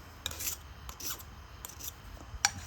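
A hand file rasps burrs off a small metal preform in a few short, quiet strokes, with soft scraping bursts separated by brief pauses.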